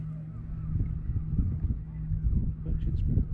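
Wind gusts buffet a fishing boat at sea off Arbroath, Scotland, making a low, rumbling rush against the microphone with a faint steady hum underneath, and no one speaking.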